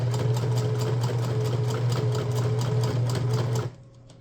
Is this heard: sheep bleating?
no